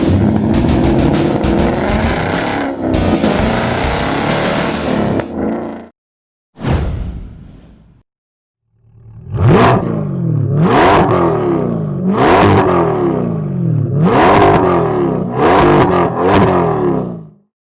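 A 2020 Chevrolet C8 Corvette with an 8-speed dual-clutch transmission revs loudly and accelerates hard, with a steady engine roar, a brief drop to near silence, then a series of rising surges as it climbs through the gears.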